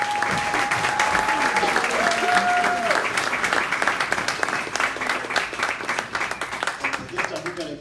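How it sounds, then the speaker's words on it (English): Sustained applause from an audience at an unsung heroes awards ceremony, with many hands clapping steadily and loudly throughout. A brief tonal whistle or feedback tone rises above the crowd early on. "let's give a round of applause for all our awardees."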